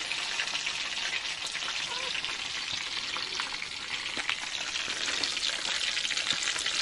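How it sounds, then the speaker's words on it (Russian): Chicken legs sizzle steadily in a pan, a dense, even crackle of hot fat that holds at a constant level throughout, with a few sharper pops and spits rising out of the hiss. "Ну что, окорочка хорошенько поджарились с обеих сторон."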